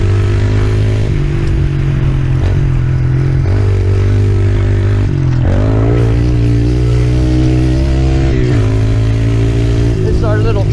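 A Yamaha TTR 110 pit bike with Pro Taper bars rides a small dirt track, its small engine droning steadily and loudly with shifts in pitch as it revs and eases off, close by throughout.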